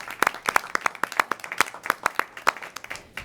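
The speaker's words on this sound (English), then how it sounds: "round of applause" Scattered, light clapping from a small audience at a school board meeting, a sparse patter of individual claps at moderate distance with no talking.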